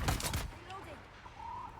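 Several rapid gunshots crack out loud and close at the start from guns in the video game Dune, followed by fainter game sounds and chirps.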